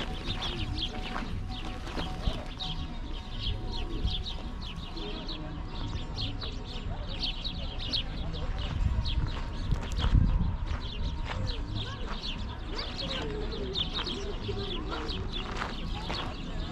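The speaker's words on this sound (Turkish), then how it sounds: "Burada çokça kuş da var." Many small birds chirp and call continuously at a distance, a steady chorus of tweets over faint outdoor background noise and occasional voices, at Göreme Open Air Museum in Cappadocia, Turkey.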